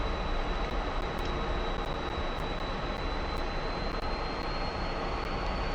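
MiG-15 jet taxiing on the ground in the DCS flight simulator, a steady, continuous engine roar with a sustained high whine, heard alone without any talk.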